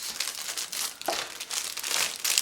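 Crinkly plastic gum packet is handled and torn open up close, a continuous rustling crackle with a few sharper crunches.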